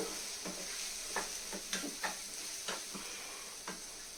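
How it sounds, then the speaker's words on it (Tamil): Food frying in oil on a low gas flame: a soft, steady sizzle and hiss with a series of light stirring scrapes and pops spaced irregularly, heard close and fairly quiet. "இப்போ பாருங்கள், இது கேஸ் சிம்மில் வச்சுட்டு பொரிச்சு எடுத்துட்ருக்கு"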